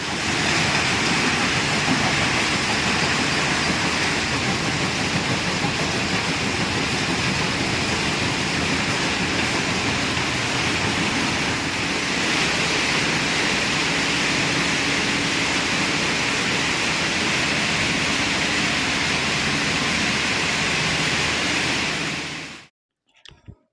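A stone crusher plant with jaw and cone crushers roars at a steady, loud level, a dense grinding rumble that runs unbroken for a long while before cutting off abruptly.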